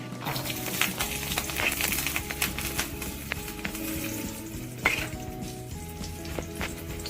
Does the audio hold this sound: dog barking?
no